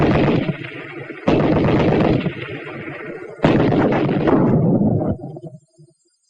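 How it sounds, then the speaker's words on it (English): An anti-tank rifle grenade detonates against a sandbagged machine gun position, two sharp, loud blasts a couple of seconds apart, each followed by a rumbling tail that fades into quiet. "It doesn't have to be a tank for the anti-tank grenade to go to work."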